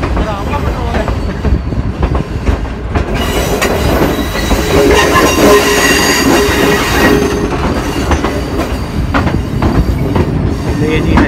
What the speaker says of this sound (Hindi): हरिया रेलवे स्टेशन को छोड़ दिया हमारी 18 डाउन ने।